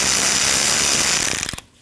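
A hand ratchet clicks steadily as it backs out 10mm bolts holding the AC lines on a 2012-2016 Honda CR-V 2.4L, a fast close-up run of pawl clicks that slows and stops abruptly.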